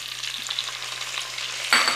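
Chopped onions sizzle in a hot pan, a close, steady crackling fry with a brief louder stir near the end and no voices.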